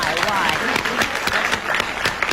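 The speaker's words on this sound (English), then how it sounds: "Claps for him." An audience claps at a comedy show, dense rapid hand claps from many people, close and loud, mixed with a voice speaking over them.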